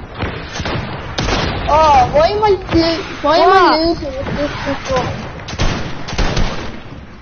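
Video game gunfire pops and booms in quick bursts under excited children's voices talking loudly over the shots.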